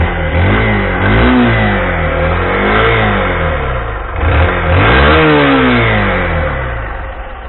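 A motorcycle engine revs up and down in repeated swells at close range. It sounds loud and rough, and no one speaks.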